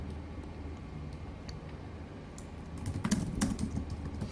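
Keys on a computer keyboard clack in short, irregular taps over a low steady background hum, the typing growing quicker and louder toward the end; no one speaks.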